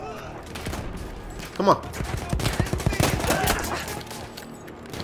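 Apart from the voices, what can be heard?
gunshots from Battlefield 1 video game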